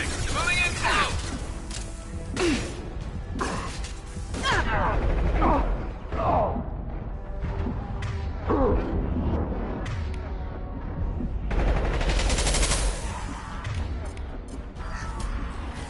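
Mass Effect 2 combat gunfire, irregular bursts of shots and crashing impacts over a busy battle soundscape, mixed with shouted voices throughout.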